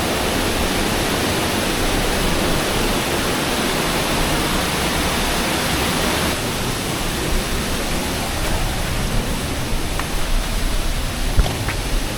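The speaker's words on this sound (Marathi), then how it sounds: "इथं आहे ॲक्च्युली खाली वॉटरफॉल आहे" A waterfall near Jawhar, heard from a viewpoint above, gives a loud, steady broadband roar of falling water that lasts the whole time with no breaks.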